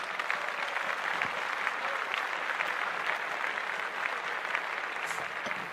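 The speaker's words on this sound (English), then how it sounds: "Let's clap that up" Live podcast audience clapping, a steady, fairly close patter of many hands that holds evenly through the whole stretch without talk.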